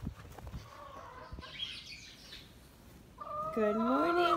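Farm chickens in the morning cluck and call at close range in a few short bursts, the last one louder and more sustained, with some faint background rustle.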